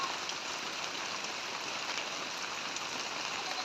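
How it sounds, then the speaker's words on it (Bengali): Steady rain falls over a rural canal-side area, a constant even hiss with no breaks, fairly quiet and unaccompanied by voices. "বৃষ্টি হচ্ছে, না হলে আপনাদের দেখাইতাম"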